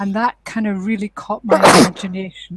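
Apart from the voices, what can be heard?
sneeze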